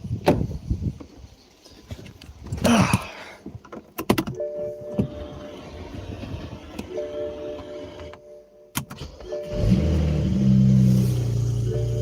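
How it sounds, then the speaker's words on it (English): A BMW engine idles with a light metallic turbo wastegate rattle, steady mechanical clatter running throughout, with a brief thump and a deeper rumble building near the end. "that rattle you hear is a turbo wastegate rattle"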